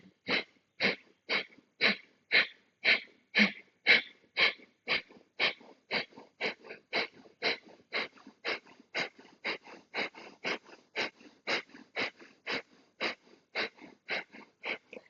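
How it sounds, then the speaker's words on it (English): Rapid, forceful rhythmic yoga breathing, breath of fire, with about thirty sharp nasal puffs pumping at a steady quick pace, close and loud, with no talking. "we're going to do breath of fire as we move"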